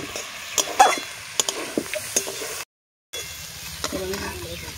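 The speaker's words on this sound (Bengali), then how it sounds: "ঢাকা খুলে আরেকবার নাড়াচাড়া করবো।" Egg and vegetable khod being stirred in a pan, with scraping spoon strokes and a soft sizzle in short bursts, broken by a brief silent gap before quieter stirring resumes.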